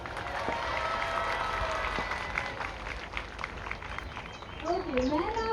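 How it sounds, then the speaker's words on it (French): Crowd applause at a children's marathon in Brussels, a soft, distant wash of clapping from children, parents and volunteers, with scattered talk and a brief high voice near the end. "Un grand applaudissement pour tous les enfants, parents, bénévoles et invités présents aujourd'hui."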